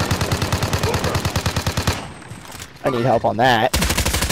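Rapid automatic gunfire in a multiplayer shooter game rattles in a steady, loud burst, pauses briefly while a player speaks, then resumes with more shots.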